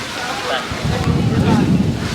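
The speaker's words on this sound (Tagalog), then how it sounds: "Sarap ng hangin." Strong wind buffets the microphone with loud, gusty rumbling that grows rougher toward the end, at Tamaraw Falls where a river meets the sea.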